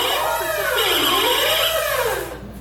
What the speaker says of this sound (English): Let's call it the epiphany alarm.